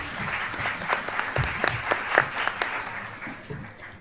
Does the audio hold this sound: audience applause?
yes